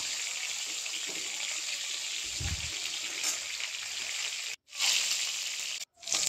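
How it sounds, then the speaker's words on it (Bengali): Katla fish pieces rubbed with salt and turmeric frying in mustard oil, a steady loud sizzle with a low thump midway and two short breaks near the end. "মাছের লবণ হলুদ মাখিয়ে মাছগুলো তেলের মধ্যে ছেড়ে দিয়েছি"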